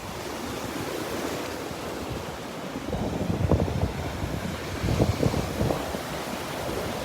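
Churned-up surf at Delnor-Wiggins beach near Wiggins Pass on an outgoing tide, a continuous wash of waves with wind buffeting the microphone and a couple of slightly louder breaking surges.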